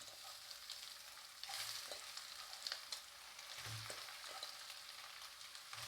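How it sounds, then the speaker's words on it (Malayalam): Soya chunks being stirred into a chili-turmeric masala in a pan for Kerala-style soya curry, giving a quiet, continuous sizzle with occasional scrapes and clinks of a spoon. "അതിനുശേഷം വൃത്തിയാക്കി വെച്ചിരിക്കുന്ന സോയ ഇട്ട് കൊടുക്കാം"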